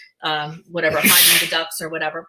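A single sharp, breathy sneeze bursts out in the middle of casual conversation, loud and close, with talking just before and right after it.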